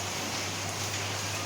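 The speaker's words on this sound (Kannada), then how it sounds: "ಇವತ್ತು ಭಾರೀ ಮಳೆ" Heavy monsoon rain pours down steadily in a village in the Balehonnur area, a dense, even hiss throughout with a low constant hum beneath.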